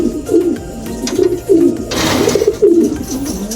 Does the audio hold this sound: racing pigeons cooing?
yes